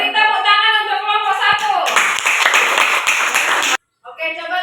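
A classroom of students clapping for a group that just presented, a dense burst of close, loud hand claps starting after a spoken voice and stopping abruptly, with talk resuming afterward.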